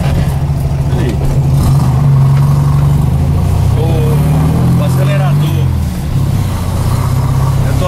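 A Volkswagen Beetle engine rumbles steadily and close, with a low droning growl and slight revving swells, as a voice talks over it.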